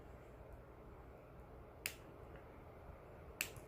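Scissors held upright snip crochet yarn to mark a stitch while making a mesh tissue case, giving two crisp, isolated clicks about a second and a half apart over a faint, quiet background.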